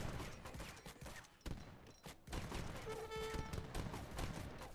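Organ guns firing in a battle in Age of Empires III, rapid overlapping volleys of gunfire crackling in dense bursts over a busy battle din, with a short lull before the shots resume.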